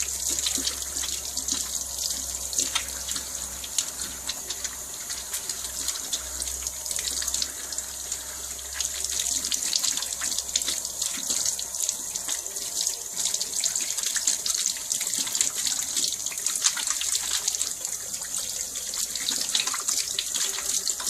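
A tap runs steadily while hands are washed with cleaning paste, a continuous close hiss of flowing water with faint splashing changes throughout.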